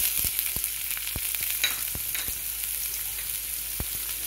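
Onions sizzling and frying in about a tablespoon of hot oil with cumin in a pan, a steady bright hiss punctuated by small pops and crackles, close and alone without talk.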